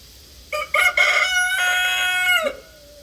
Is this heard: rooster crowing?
yes